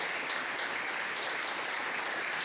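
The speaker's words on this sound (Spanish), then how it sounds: "dale palmas a Rey, apláudele fuerte" A church congregation claps loudly for Christ the King after a sermon, a dense, even wash of applause that holds steady from start to finish.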